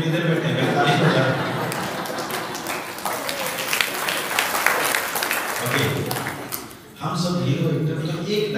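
An audience at a stage gathering claps in a sustained burst of applause over several seconds, with a voice speaking before and during it.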